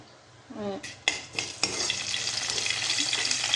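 Bay leaf with dried red chili lightly fried in oil for a sweet-sour-spicy tomato chutney: a few utensil clinks, then a steady close sizzle that continues on its own.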